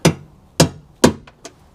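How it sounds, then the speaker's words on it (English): Sharp metallic taps of a hammer striking a chisel while easing rivets out of the wing of a 1991 Mk2 VW Golf GTI 8V: three firm evenly spaced blows, then two lighter quicker ones, close and clear. "they just need easing out with a hammer and chisel, carefully"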